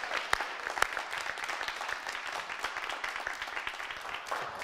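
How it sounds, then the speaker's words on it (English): An audience applauds Sister Sue, a nurse helper at a comedy show, with fairly soft, scattered claps and a couple of sharper nearby hand claps standing out early. "Big round of applause for Sister Sue."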